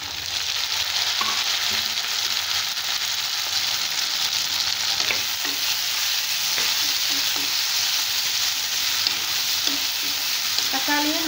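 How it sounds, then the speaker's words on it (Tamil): Tomatoes and onions sautéing in a pan for an ivy gourd tamarind gravy, with a loud, steady frying sizzle throughout and occasional soft stirring taps, nobody speaking. "நல்லா வதங்கட்டும்"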